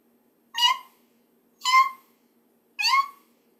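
Someone mimics a caracal's short chirp three times, each a brief bright call roughly a second apart, close and alone against a quiet background.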